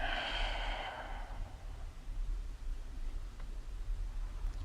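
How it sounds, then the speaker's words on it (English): Gentle exhaled breath at the start of a yoga stretch, a soft airy sigh fading after about a second into quiet room tone, close and unvoiced. "you're just letting the breath go into a resting move together with the downwards stretch"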